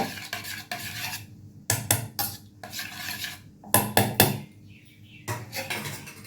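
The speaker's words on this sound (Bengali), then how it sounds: "ভালো করে মিক্স করে নেব।" A spoon stirs and mixes leftover food in a bowl, with repeated scraping clinks and taps against the sides in short bursts, close and fairly quiet with pauses between strokes.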